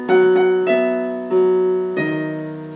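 Piano playing the closing section of a short song by ear, a few sustained chords struck one after another and left to ring and decay, close and clear with no talking.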